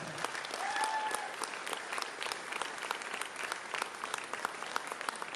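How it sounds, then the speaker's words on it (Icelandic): Audience applause at an accordion festival gathering in Ísafjörður, greeting Helga Kristbjörg Guðmundsdóttir of an accordion trio; steady dense clapping fills the whole stretch at even strength, with a brief whistle near the start. "Gefum henni gott klapp."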